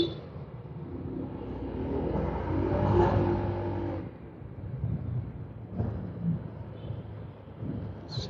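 An idling car engine with a lit check-engine light, recently after its first oil change, rumbles low and steady, swelling slightly mid-way before settling into a quieter hum.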